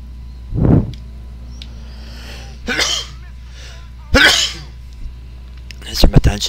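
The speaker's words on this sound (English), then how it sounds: "Just a sneeze" In the video game GTA IV, a single sharp sneeze rings out close by, followed by a few other breathy bursts over a low engine hum.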